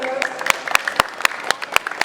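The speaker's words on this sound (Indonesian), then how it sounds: "Beri tepuk tangan." A crowd claps in a steady, even rhythm at a literacy festival book discussion, sharp regular beats over tonal background sound.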